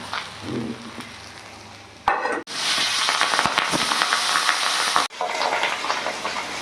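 Pabda fish fry in a large pan of hot oil with a loud, crackling roar that cuts in abruptly. It spits and pops steadily close up, breaking off briefly before resuming, with no talk.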